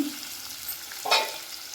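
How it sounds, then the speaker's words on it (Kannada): Onions fry in a pan for village-style okra sambar, a steady soft sizzle with a brief scrape of stirring near the middle, close and alone. "ಈರುಳ್ಳಿ ಸ್ವಲ್ಪ ಕೆಂಪಗಾಗೋವರೆಗೂ ಹುರ್ಕೋಬೇಕು"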